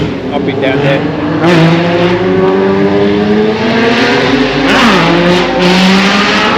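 Motorbike engine revving hard nearby, a loud sustained roar with rising and falling pitch sweeps, heard alongside other engine noise at a car and bike meet.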